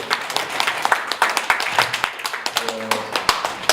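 Audience clapping at a speaking event after a talk on health and marathon running; scattered, uneven claps with distinct sharp hits, close by, with some background murmur.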